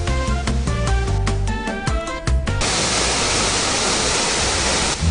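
At Asop Falls in Plateau State, Nigeria, a waterfall splashes in a continuous, loud, broadband roar. It takes over after a few seconds of music and stays steady to the end.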